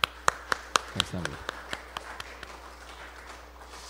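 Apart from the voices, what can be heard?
applause in church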